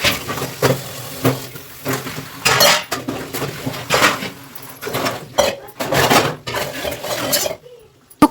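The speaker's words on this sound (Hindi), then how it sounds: "और फिर बर्तन धुल के रख देते हैं" Dishes, pots and utensils are washed after a family meal, with repeated clatter and clinks of metal and crockery in irregular bursts close to the microphone, plus running water and some faint background voices.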